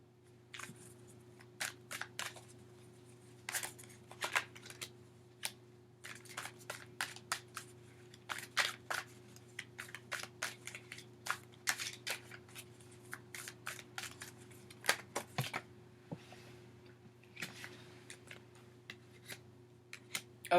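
Tarot cards are shuffled and pulled by hand, giving a dense, continuous run of crisp flicks, riffles and slaps, close up, over a faint steady hum.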